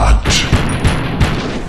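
Gunfire in the mobile zombie shooter Zombies Fire Strike, with a heavy boom at the start followed by three evenly spaced, punchy thumping shots under a steady background of game sound.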